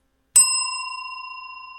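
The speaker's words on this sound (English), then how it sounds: "Ring that bell." A single bell is struck once and rings out clearly, its bright ding sustaining and slowly fading over nearly two seconds with no other sound.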